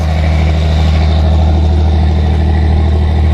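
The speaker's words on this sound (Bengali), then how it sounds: "এই যে লঞ্চ" A river launch on the Buriganga River gives a loud, steady engine drone with a deep low rumble and regular throb that runs without a break, close and unvarying.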